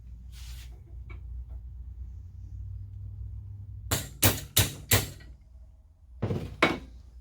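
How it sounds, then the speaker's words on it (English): A metal wrench hammers a part onto the shaft of a STIHL Kombi power tool: four sharp, loud metallic knocks in quick succession, then a pause and two more softer blows, with quiet surroundings in between. "I'm going to take a wrench and beat that on there."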